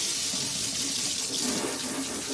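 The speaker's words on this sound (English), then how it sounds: "if your kitchen starter ritual also starts with a sink full of hot soapy water" Hot soapy water runs from a kitchen faucet into a filling sink, a steady close hiss and splash that carries on without a break.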